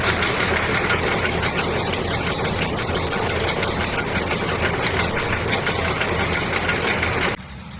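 A tractor runs its PTO to drive a New Holland BR7060 round baler in a hay field: a steady, loud mechanical roar with a dense, rattling drone that cuts off abruptly near the end.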